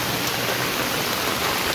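A steady roar of heavy monsoon rain in the Konkan region, falling onto a waterlogged road, forms an unbroken, close hiss that holds level throughout, with no speech.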